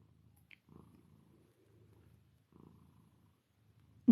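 A shelter-adopted female cat purrs softly while rubbing against her owner, a low rhythmic rumble in slow pulses, close but faint, ending with a sharp brief knock.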